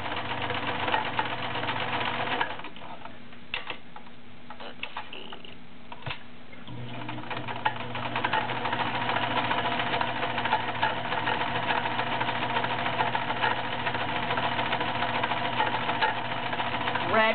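A vintage 1980s Kenmore Ultra Stitch 12 (model 1561) sewing machine runs a feather stitch. Its steady, close mechanical whir and ticking continues throughout, easing off briefly early on before resuming at an even pace.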